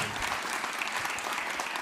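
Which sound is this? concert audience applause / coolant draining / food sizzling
concert audience applause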